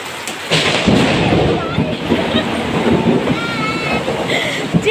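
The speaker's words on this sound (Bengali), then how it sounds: "একদম হরমর করে বাজ পড়ছে একেবারে" Thunder rolls through a heavy rainstorm, a loud low rumble that keeps going over the constant wash of rain, with faint voices underneath.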